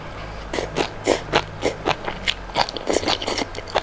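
Sea grapes seaweed are bitten and chewed close to the mic, giving a quick, rhythmic run of wet crunchy pops and squelches, loud and intimate, with no talking.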